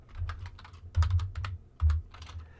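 Keys clatter on a computer keyboard as HTML is typed, a close, quick run of uneven taps with a few heavier strokes, fairly quiet and with no talk.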